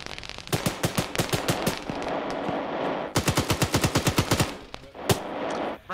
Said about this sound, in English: You think we fired enough bullets in that direction?